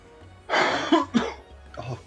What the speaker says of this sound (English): Oh, coughing too much.